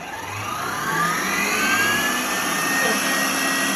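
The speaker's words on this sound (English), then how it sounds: "I'm turning on the mixer" A steady, high-pitched electric mixer motor whir runs continuously at close range on high speed, with a rising whine that holds throughout and no voices.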